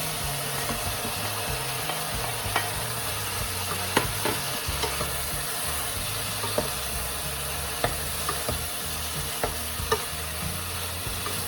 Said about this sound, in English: We need to stir fry a little while.